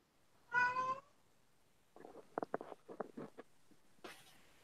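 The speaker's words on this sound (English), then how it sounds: "That was my cat." A cat gives one clear, drawn-out meow nearby, followed by a string of short, quieter sounds.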